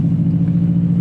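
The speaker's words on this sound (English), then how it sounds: "I think this exhaust is going to sound really good once I fix it. Right now it's a little rattly because it's hitting the back end of my car." Subaru Legacy GT exhaust, rattly from hitting the car's back end and leaking at the mid-flange, gives a steady, close, low droning rumble for about a second with no voices.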